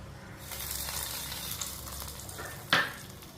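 Hot tempering of curry leaves, garlic and coriander poured into south Indian rasam: soft continuous frying hiss, then one sharp, loud sizzling burst as it hits the liquid, fading quickly.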